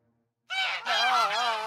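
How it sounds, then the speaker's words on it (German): Geese in a goose shed give a loud, close burst of honking cackles, starting abruptly after a short silence and continuing for about a second in overlapping calls. "Sie schnatterten so laut,"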